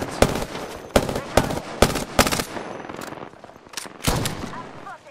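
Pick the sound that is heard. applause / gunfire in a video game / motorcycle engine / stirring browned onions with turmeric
gunfire in a video game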